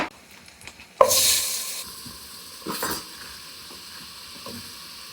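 Butter dropped into a hot pan already coated with jambalaya seasoning sends up a sudden loud sizzle that fades into a steady frying hiss, with a second burst of crackle a moment later, close up.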